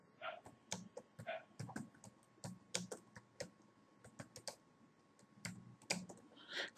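Someone typing a search query on a computer keyboard, quiet irregular clicks of keys pressed in quick bursts with brief pauses, close and soft.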